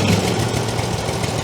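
A GreenMech CS100 wood chipper's engine runs with the choke pulled out, a loud, steady close-up rumble with a rough, throbbing vibration and no pauses.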